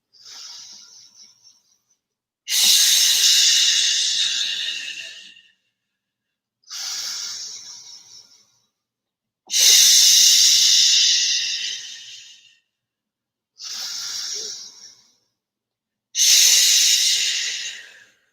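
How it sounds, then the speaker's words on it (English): Deep breaths during a guided breathing exercise, six long hissing inhales and exhales in a slow steady rhythm with pauses between, close and fairly loud, with no talking. "just keep breathing right through them."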